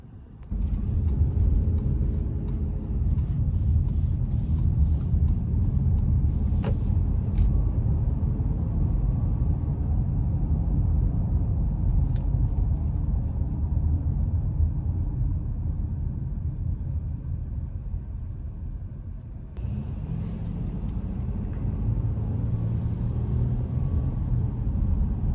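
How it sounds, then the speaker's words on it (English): A 2021 Honda Pilot AWD cruises on the road with a steady low rumble of engine and tyre noise, broken by brief clicks and a short dip near the end; no one speaks. "we're gonna go ahead and take this 21 Pilot all-wheel drive out on the road for a quick test drive"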